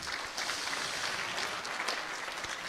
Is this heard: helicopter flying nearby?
no